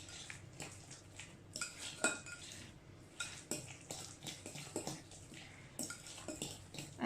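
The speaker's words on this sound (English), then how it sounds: "I'm going to mix that all together." Banana muffin batter with grated apple is mixed in a bowl, with rhythmic clinks and scrapes of a utensil against the bowl in quick bursts, close but quiet and with no talking.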